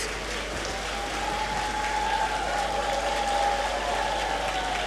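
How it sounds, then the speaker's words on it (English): Audience applause fills a graduation ceremony in a great hall, a steady dense wash of clapping from many hands that holds at an even level throughout with no gaps. "A round of applause for yourselves"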